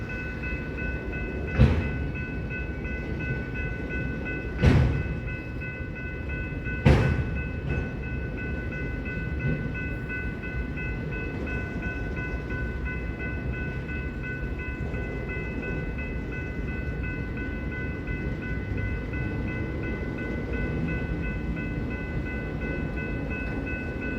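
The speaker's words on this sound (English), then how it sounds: "you get traffic jams like this, where you get trains waiting to cross each other's tracks" Trains idling and rumbling at a railway crossing, waiting for each other, a continuous low rumble with steady tonal hums and three sharp clanks early on.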